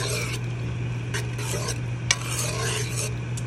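Kale is stirred into a pot of Latin-style ratatouille, giving a steady close scraping and rustling with a low simmering hum underneath and a few sharper clinks of the utensil against the pot.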